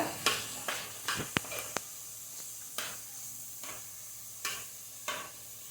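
Banana stem curry being stirred with a spoon in a pan, salt just added, giving a series of distinct scraping strokes at a steady rhythm over a low sizzle, close and moderately loud, with no talking.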